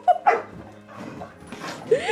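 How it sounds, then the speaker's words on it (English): A dog gives short yips, whimpers and a bark in irregular bursts, close by and mixed with people talking and exclaiming around it. "now look at the dog"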